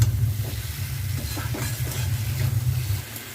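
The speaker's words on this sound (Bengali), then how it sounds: "এবার এর মধ্যে জল দিয়ে দেবো।" Potatoes and spices sizzling in a pan as water is poured in, a steady close hiss and bubbling crackle over a low rumbling hum, with no voices.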